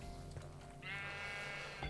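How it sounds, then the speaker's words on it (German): A sheep in the Minecraft video game lets out a single clear, wavering bleat that rings out loudly in the second half, following a stretch of steady game background sound. "Ah, ein Schaf."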